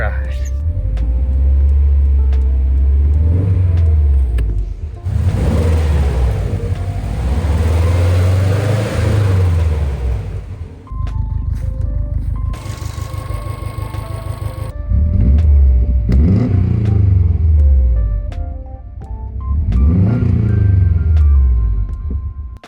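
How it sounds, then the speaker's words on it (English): A Subaru STI on a test drive, its engine rumbling low and steady with rising and falling revs as it accelerates and shifts, heard from inside the car. "So I'm gonna go drive it, see if it feels any different"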